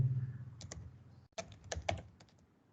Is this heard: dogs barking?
no